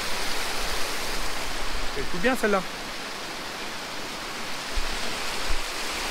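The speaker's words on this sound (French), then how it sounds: "vous avez des petits cours d'eau comme ça, des petites cascades naturelles" Steady rushing water from small natural cascades and a stream along a mountain hiking trail, a constant broadband wash with a brief spoken phrase over it.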